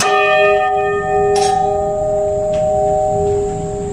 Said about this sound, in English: It pulled on this bell and it actually rung.